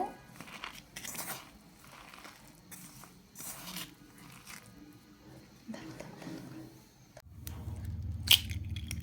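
Shredded cabbage being mixed by hand with cumin powder, red chilli powder and salt for cabbage pakora, bursts of close crunchy, rustling squishes in uneven rhythm, with a louder rumble toward the end.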